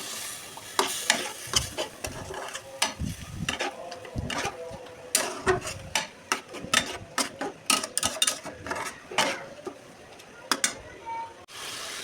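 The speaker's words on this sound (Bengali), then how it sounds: "সামান্য একটু পানি দিয়ে আমি এটাকে কষিয়ে নিচ্ছি।" Spices with salt, red chilli powder and coriander powder being sautéed with a little water in a pan, a soft sizzle beneath frequent scraping, clattering strokes of a spoon, all close by.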